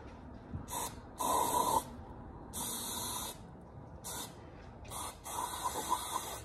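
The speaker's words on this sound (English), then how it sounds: "I should probably put it like this and just start spraying" Several bursts of hissing spray paint from a can onto a Blue Yeti microphone, each lasting about half a second to a second, start and stop with short gaps between, close and fairly loud.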